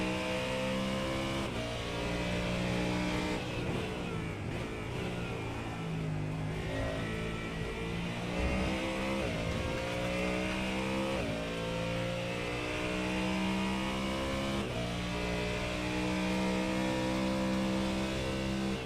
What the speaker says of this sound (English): Let's ride on board with a lap with James and hope that the engine doesn't blow our speakers out